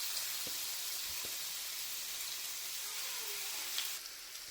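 Prawns roast on a tawa over a slow flame, giving a soft, steady sizzle and hiss throughout, with a couple of faint clicks.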